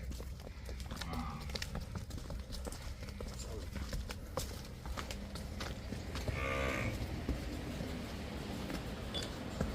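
Cows and young cattle low at a Punjab dairy farm, with a few moos rising over a constant rumble of barn noise and shuffling hooves while people talk nearby.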